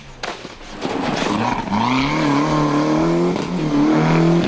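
Cosworth rally car driven hard on a park stage, engine roaring and rising in pitch as it accelerates, loud and close, with a tire squeal near the start.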